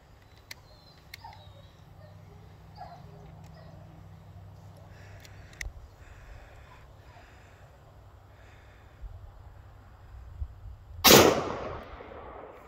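A single sharp gunshot cracks out near the end at an outdoor shooting range, loud and close, after a stretch of low wind and faint background noise.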